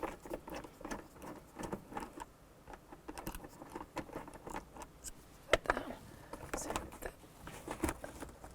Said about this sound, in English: Take a Phillips screwdriver, and you're going to take those Phillips screws out